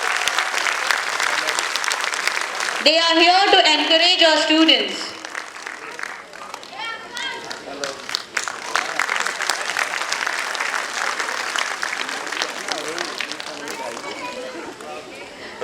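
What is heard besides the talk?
audience applause at school annual day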